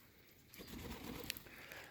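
Pigeons in a loft at the end of the season give low, faint coos after a quiet start, with a small tap near the middle.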